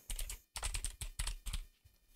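Keystrokes on a computer keyboard while a search for PowerShell is entered in the Windows Start menu, coming in quick close bursts of clicks separated by short pauses, with no talking.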